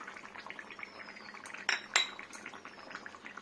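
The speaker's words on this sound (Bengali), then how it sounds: "একবার নাড়া দিয়ে নেবো আস্তে করে" A spoon clinks and scrapes against a metal pot while spice paste of cardamom, cinnamon and garam masala is gently stirred into chicken curry, soft wet stirring with two brighter knocks in the middle, no talking.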